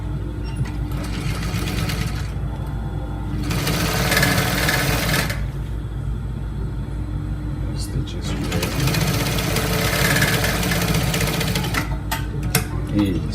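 A sewing machine stitches trouser fabric in loud bursts of rapid mechanical whirring, with two long runs separated by quieter pauses and a few clicks near the end.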